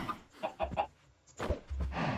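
Minecraft chickens cluck in several short bursts, a few quick clucks followed by a slightly louder pair, close by with no talking.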